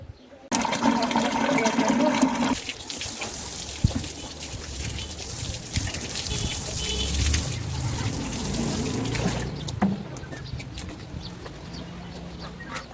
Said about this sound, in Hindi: तो अभी मुझे इसको पानी डालना है।